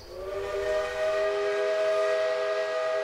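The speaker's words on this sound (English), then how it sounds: "A steam engine, chuffing its way through the North Carolina mountains." A steam locomotive whistle in the North Carolina mountains blows one long, steady tone with a hissing edge, loud and sustained, without audible chuffing.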